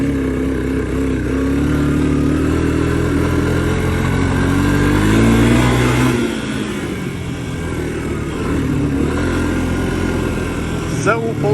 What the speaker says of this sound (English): if I dump the throttle, it falls on its face.